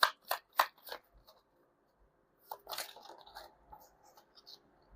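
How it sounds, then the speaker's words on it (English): A deck of tarot cards being shuffled by hand, with a few sharp riffling bursts at the start and a short rustling, crackling run later, close and fairly quiet with gaps of near silence. "You saw me shuffle."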